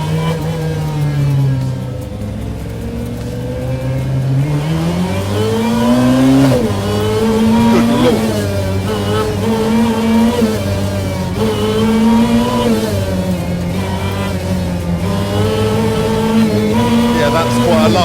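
A Lancia 037 rear-wheel-drive Group B rally supercar drives with its engine revving up and down continuously, loud and close from inside the car, while someone talks over it.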